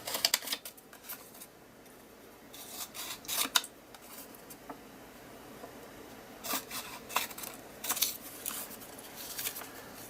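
Scissors snip through dictionary paper sheets in quick bursts of crisp, close cuts with paper rustling between, pausing and then resuming in several clusters.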